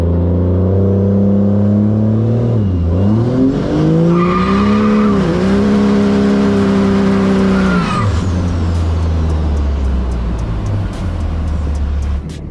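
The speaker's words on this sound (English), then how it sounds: "Like you tap the throttle and the back end just walks around." A big diesel truck drifts with its engine revving up and down in rising and falling sweeps, tires squealing and air brakes hissing, loud and close, with the engine settling into a steady idle rumble at the end.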